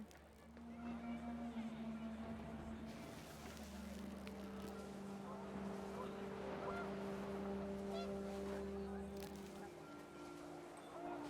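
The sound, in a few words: panicked geese honking in wind, from video game What Remains of Edith Finch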